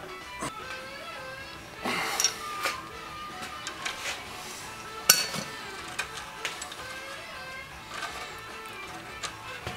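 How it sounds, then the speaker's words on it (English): Metal strikes from a punch hammered against a part clamped in a vise to shock it loose, heard as a handful of sharp, separate clinks at irregular intervals over a quiet workshop background. "We had to shock it with our punch there again, and got it loosened up."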